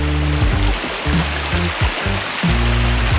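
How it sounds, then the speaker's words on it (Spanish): The lower Wli waterfall flows with a constant loud rushing roar, close and steady, with low gurgling pulses underneath and no voices. "Esta es la cascada baja de Gli."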